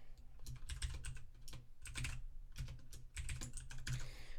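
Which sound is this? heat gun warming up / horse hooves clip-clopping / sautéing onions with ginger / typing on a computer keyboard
typing on a computer keyboard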